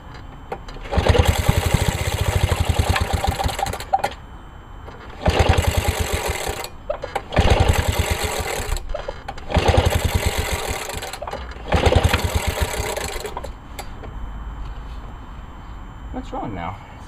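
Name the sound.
lawnmower engine being pull-started, failing to start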